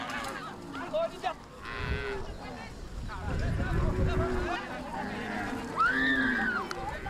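A returning Fulani herd of cattle lowing at a settlement, several overlapping moos near and farther off, mixed with a narrator speaking over the herd.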